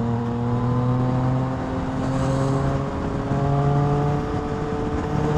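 Yamaha XSR900 motorcycle exhaust: a steady, loud engine note with a strong droning hum, rising and easing slightly in pitch across the stretch as it revs and rides, close by with no talk.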